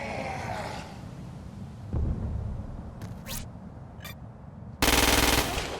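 Weapon fire at freaks in Crackdown 2 comes as several separate bursts: a loud rattle at the start, a thump near two seconds, short sharp cracks in between, and a heavy, loud volley toward the end.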